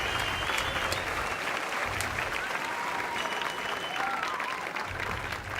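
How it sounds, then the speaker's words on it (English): An audience gives steady, dense applause that stays at an even level throughout, with no clear voices rising above it. "Can we all applaud the upgrade"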